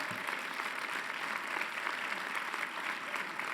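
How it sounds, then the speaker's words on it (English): A round of applause at a university Charter Day convocation, a continuous faint wash of many hands clapping from a large audience, distant and even throughout. "Let's give a round of applause."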